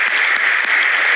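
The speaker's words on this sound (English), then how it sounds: "Yes, huge thunderous round of applause." A large audience gives a thunderous round of applause at the Belrise Industries Limited IPO listing ceremony at NSE: dense, steady clapping that stays loud and continuous throughout, with no voices over it.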